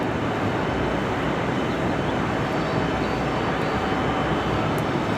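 American Airlines jet taking off at Raleigh-Durham airport, a steady, dense broadband engine roar that holds constant and loud throughout without people talking.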